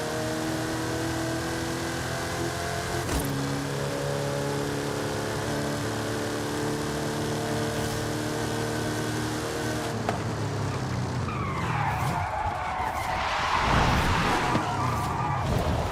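McLaren car in Forza Horizon 5 holding a loud, sustained engine drone with shifting pitch, followed by screeching tire skids near the end, and no voices.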